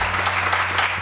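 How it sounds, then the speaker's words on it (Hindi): Audience applause at a Samaa TV morning show studio, a brief dense burst of clapping that fills the moment loudly with a steady hum underneath. "बहुत सारी तालियां।"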